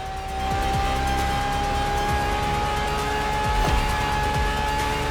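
A Ferrari LaFerrari hybrid supercar drives in The Crew Motorfest, its engine a steady, loud drone with brief tire and passing-car swells, heard alone.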